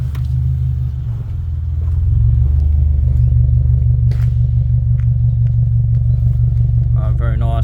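A cold boxer engine idles just after start-up with a loud, steady, deep low rumble that swells slightly after a couple of seconds, heard up close with faint mechanical ticks on top.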